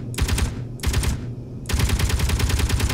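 Bursts of rapid automatic gunfire from enemy weapons aimed at the player in Space Engineers, loud and close, in three volleys separated by brief pauses, with the last volley running steadily to the end.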